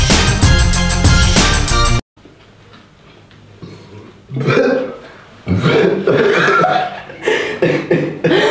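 Loud burp during a Sprite drinking challenge, following a burst of loud music that cuts off abruptly; the drawn-out belch is joined by chuckles and voices nearby.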